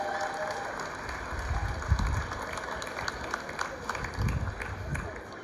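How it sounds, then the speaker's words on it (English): Applause from an audience, a broad steady patter of clapping with a few louder bursts, fairly close and lasting throughout. "A round of applause for Meredith and Wayne."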